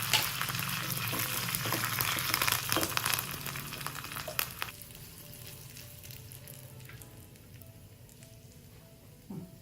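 Mustard seeds and curry leaves sizzle loudly in hot oil, the crackle fading to a quieter steady fry over several seconds.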